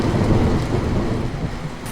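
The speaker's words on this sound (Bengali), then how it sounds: "বৃষ্টিটা জোরে এলো।" Heavy rain pouring in a dense, steady roar with low rumbling thunder beneath, loud and continuous throughout.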